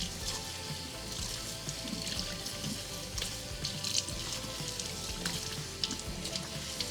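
Running tap water wetting kinky straight clip-in hair extensions in a sink, a continuous close splashing and trickling with small irregular spatters, no voices.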